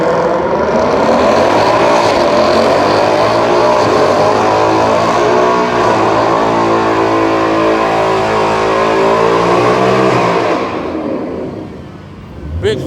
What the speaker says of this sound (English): That's SRT Hellcat.